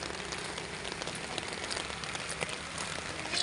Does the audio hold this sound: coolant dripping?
no